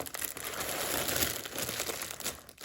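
A plastic bag crinkles and rustles up close, an uneven stretch of crackling handling noise at a quiet level.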